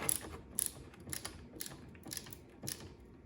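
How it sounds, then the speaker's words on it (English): A ratcheting screwdriver tightens screws on a tabletop furnace conversion, giving quiet, close clicking bursts in a steady rhythm of roughly two per second. "I really like this ratcheting screwdriver. I recommend the ratcheting screwdriver."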